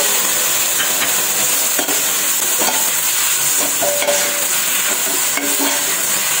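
Shrimp being stir-fried in a pan give off a loud, steady hissing sizzle close up, with light clatter from stirring running through it.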